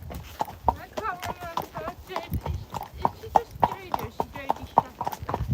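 Rhythmic clip-clop of horse hooves on a hard road while riding through Cartmel village, steady close steps throughout, with people talking over them.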